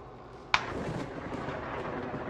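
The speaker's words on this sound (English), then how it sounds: "He got struck by lightning!" A lightning strike gives a sudden sharp crack of thunder, followed by a sustained, rumbling wash of noise.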